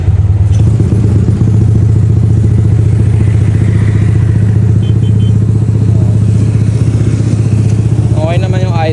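A Yamaha Aerox scooter engine idles loudly close by in a shop, holding a steady, even putter throughout, with a faint voice briefly heard near the end.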